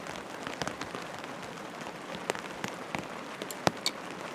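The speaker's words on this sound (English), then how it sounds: "So much rain coming off this tarp in waves." Heavy rain pours off a tarp at a car campsite in waves, a dense steady hiss of falling water with sharper splashes and drips scattered throughout, no voices.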